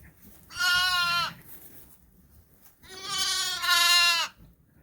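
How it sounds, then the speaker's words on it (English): A Suffolk lamb bleats twice, close and loud, each cry a wavering, nasal call lasting under a second, with a brief quiet gap between them. "I just fed that lamb. I don't know why he's crying."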